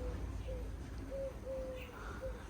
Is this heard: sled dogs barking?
no